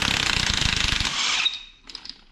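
Rapid mechanical rattling from a power tool loosening the crank pulley on a Nissan 300ZX engine, a fast burst of hammering clicks that stops after about one and a half seconds, followed by a few faint knocks.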